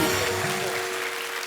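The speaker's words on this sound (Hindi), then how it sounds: "सनी के लिए जोरदार तालियां।" Studio audience applause on a Hindi comedy talk show set, a steady dense wash of clapping filling the whole stretch at even loudness, with no voices over it.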